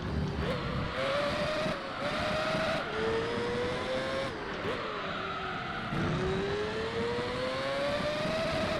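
A race car engine in Gran Turismo 3 screams as it climbs through the revs, with the pitch rising and dropping at each gear change. Tyres squeal faintly under the sustained loud drone.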